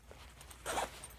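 A thin zipper on a sturdy plasticky fabric carry-on shoe bag is pulled open in one quick, close rasping stroke after a soft handling rustle.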